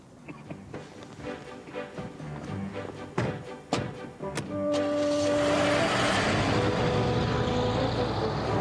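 An expensive car starts and pulls away: a few mechanical clicks and thumps, then a loud, steady engine roar that swells and holds as it drives off.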